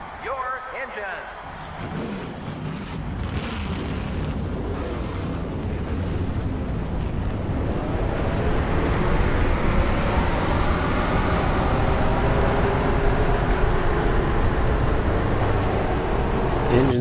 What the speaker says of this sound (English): Engines are fired up here at Michigan International Speedway for today's running of the KMart 400.